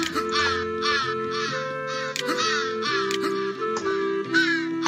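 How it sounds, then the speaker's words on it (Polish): A raven in the video game Santa Claus In Trouble caws several times in quick, harsh bursts, set against steady, bright game music. "Czy tutaj gdzieś był kruk?"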